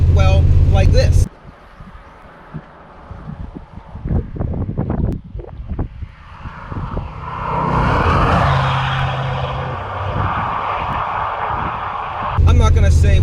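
A C4 Corvette exhaust heard while driving, giving bursts of rumbling engine sound and then a sustained roar with heavy wind noise. Speech is heard briefly at the start and end.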